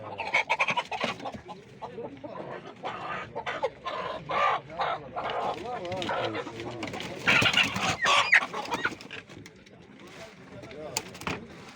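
Chickens and roosters cluck and squawk in bursts at the Sungurlu poultry market, close and lively, with people talking throughout.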